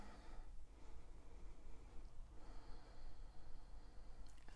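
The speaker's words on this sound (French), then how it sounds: "on prend 1 ou 2 respirations ici" Slow, deep breathing during a yoga session: soft airy inhales and exhales swelling and fading, faint and close, with no talking.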